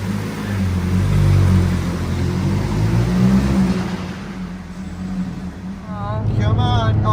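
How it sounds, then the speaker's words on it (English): A Fiat Panda hybrid with manual transmission has its small engine revved hard, a loud, steady droning roar that swells and holds throughout, with people talking over it. "I'm gonna have to give it some revs."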